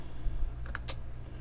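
A few quick, faint clicks of keys on a computer keyboard, a short burst of typing near the middle against a low steady background hum.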